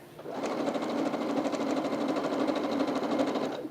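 A sewing machine stitches a fabric strip in one steady, continuous run, close and fairly loud, with an even rapid needle rhythm for several seconds.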